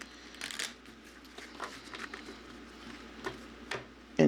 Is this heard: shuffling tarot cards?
yes